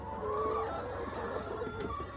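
Laying hens on a farm in Zimbabwe cluck softly and steadily inside a laying house, a low continuous chatter of several birds close by with occasional sharper calls, no talking.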